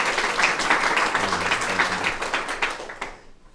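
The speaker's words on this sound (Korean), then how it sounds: "박수." Applause from a lecture audience on a Korean real estate law channel, a dense, steady patter of many hands clapping at even loudness for about three seconds before cutting off abruptly.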